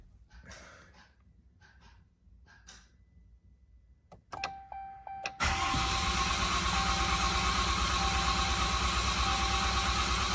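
A 2019 Ram 3500 diesel engine cranks briefly after a fuel filter change, then catches and settles into a loud, steady idle close by; soft knocks and faint movement come before the start.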